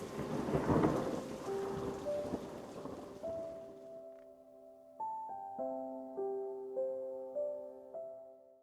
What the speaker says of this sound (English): sounds like another storm's rolling in.